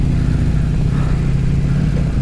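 A 2004 BMW R1200GS motorcycle engine drones steadily while riding off-road on a green lane across Salisbury Plain, a loud, constant mid-pitched boxer-twin hum with no talking.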